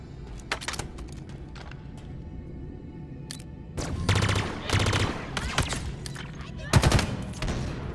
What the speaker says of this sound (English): By shooting at the grunts